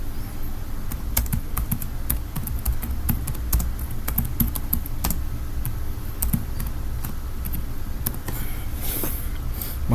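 Keys clatter on a computer keyboard as an address is typed into a form, a close, steady run of quick irregular taps over a low background hum with no talking.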